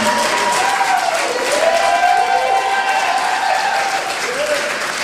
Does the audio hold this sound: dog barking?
no